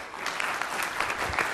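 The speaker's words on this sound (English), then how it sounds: "We give rounds of applause." Audience applause fills a conference hall at a Microsoft Ignite 2015 session on Hyper-V security, a steady, dense burst of clapping from many hands that runs the whole moment with no talk over it.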